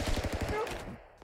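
Rapid burst of video-game gunfire from the stick-figure fighting game Stick Fight, loud repeated shots for about a second that then trail off into quiet.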